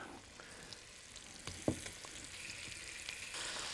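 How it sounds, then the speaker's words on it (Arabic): Fish sizzles and fries in a pan for a seafood soup, a soft continuous crackle close by with a few light clinks as the pieces are turned. "وهبتدي بالراحه كده اقلبها، اقلب السمك واحده واحده"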